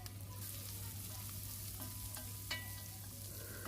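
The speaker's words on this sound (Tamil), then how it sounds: "வெட்டி வச்சிருக்கிற உள்ளி, பச்சை மிளகாய் இதையும் போட்டு அதுக்குள்ளேயும் வதக்கி எடுக்க போகிறேன்" Chopped garlic and green chilies sauté in oil in a pan for Jaffna-style egg curry, giving a soft continuous sizzle with a few light utensil taps over a low steady hum.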